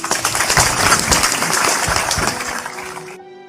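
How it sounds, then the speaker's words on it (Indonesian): An audience at a religious talk claps loudly for a speaker, a burst of close, busy clapping that tapers off and cuts to quiet after about three seconds. "Sekarang tepuk tangan untuk terakhir Pak Muzamil ya."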